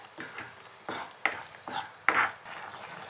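A spoon scraping and stirring ground spice paste in a cooking pan, several distinct scraping strokes at an uneven rhythm, close and moderately loud with no talk.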